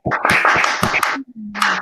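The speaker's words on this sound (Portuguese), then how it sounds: "uma salva de palmas para você e para a Margot" Applause for a teacher and a coordinator at the close of a staff conversation, a dense patter of clapping hands that breaks off briefly and then starts up again.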